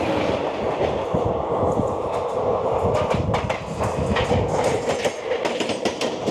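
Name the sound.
Howrah-Jaynagar Express train 13031 running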